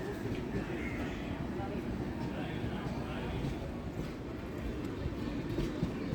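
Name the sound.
Rani Chinnamma Express train pulling into platform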